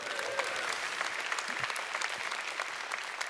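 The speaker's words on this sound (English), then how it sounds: "let's have a cheer for Adam" An audience on the Gold Coast cheers and applauds for Adam at a Sunrise Australia Day event, a dense, steady wash of clapping with scattered whoops held at an even level throughout.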